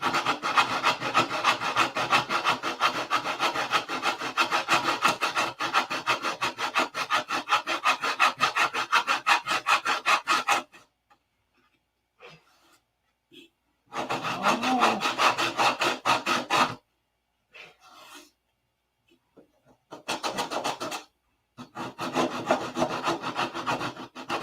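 Sandpaper rubbed steadily back and forth over a P-47 scale model, a dense rasping scrape for about ten seconds, then shorter bursts of sanding broken by pauses. Close and fairly loud, with no talking.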